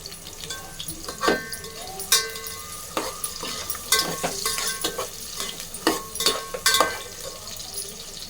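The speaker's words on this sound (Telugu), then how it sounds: "ఆయిల్ ఎక్కినాక ఆనియన్ ఫ్రై చేసుకోవాలి కొన్ని" Onions sizzle in hot oil in a cooking pot for egg biryani. A spatula scrapes and clanks against the metal in uneven bursts over a steady frying hiss, up close, with no talk.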